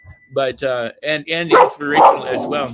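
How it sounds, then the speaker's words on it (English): A few dogs indoors bark and yip in a quick burst of short, sharp calls, close and loud, with someone speaking over and between the barks. "Excuse my dogs."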